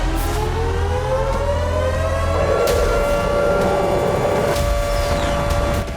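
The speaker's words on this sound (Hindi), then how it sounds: "कीव में खतरे का सायरन गूंजने लगा" An air raid warning siren wails over Kyiv in the middle of the night. It is a loud, sustained tone that slowly rises and holds steady, with a continuous rumble of background noise beneath it.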